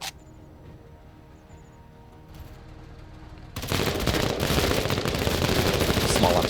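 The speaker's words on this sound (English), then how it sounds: "Small arms fire." Small arms gunfire in the video game Menace starts quiet, then swells into a loud, dense crackle of sustained rapid shots for the last few seconds, with no talk over it.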